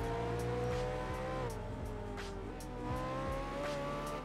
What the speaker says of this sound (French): C'est un peu fort le bruit de ma voiture.